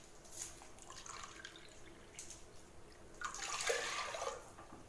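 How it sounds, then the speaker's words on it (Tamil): Water splashes and trickles into a pot of carrot kheer in uneven spurts, growing into a fuller pour toward the end, fairly faint and close. "இப்போது எக்ஸ்ட்ரா 1 கப்பு தண்ணி ஆட் பண்ண போகிறோம்."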